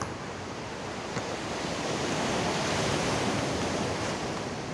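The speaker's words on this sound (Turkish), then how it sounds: "Dalgalar bile vuruyor bak" Sea waves crash and surge against the shore in a steady, loud roar of surf, mixed with gusty wind buffeting the microphone.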